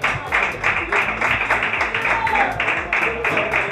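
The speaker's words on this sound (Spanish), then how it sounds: "Un aplauso." An audience claps at a football club presentation for a team captain, with a brief burst of uneven applause under a noisy, echoing room and nearby voices.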